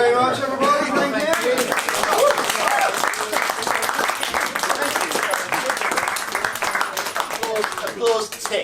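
Applause and clapping from an audience at a live show, steady and fairly close for several seconds, with people talking over it and a few scattered shouts.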